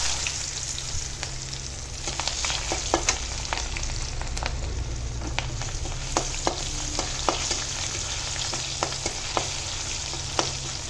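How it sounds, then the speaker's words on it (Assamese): Chopped onions fry in leftover fish-frying oil with a constant close sizzle, dotted throughout by crisp pops and occasional spoon scrapes against the pan. "এইখিনি ভালদৰে ভাজি ল'ম"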